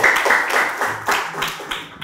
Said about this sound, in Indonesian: Tepuk tangan dulu MC ini